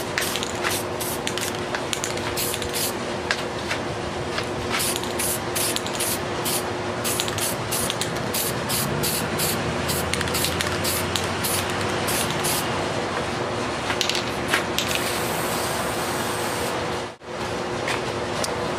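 Aerosol spray paint hissing steadily from a can while laying down a base coat, a continuous close, loud spray with brief pauses and a short break near the end.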